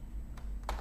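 Two soft, quick computer keystrokes, close and faint, spaced about a third of a second apart over a steady low hum.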